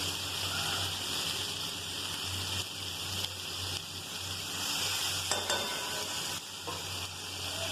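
Curry masala fried in oil in a pan hisses as water goes in, a loud, steady sizzle with a few sharper crackles and splashes near the end.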